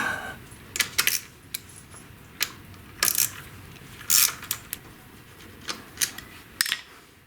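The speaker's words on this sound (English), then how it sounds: "Over here we have 3 T30 bolts to remove." Metallic clicks and clinks from T30 Torx bolts being worked loose on a BMW R1200GS swing arm, a dozen or so sharp, irregular ticks close by against a quiet background.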